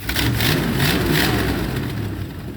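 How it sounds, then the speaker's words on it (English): Engine of an abandoned 1970 V8 Mustang, recently fitted with a fixed throttle cable and return spring, revving: a loud, rough, rumbling rev with a few throttle blips that swell and settle back toward idle, close by. "Give her a little rev, Briar."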